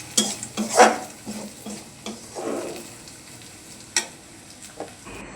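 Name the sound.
onion, chili and spice masala frying in a pan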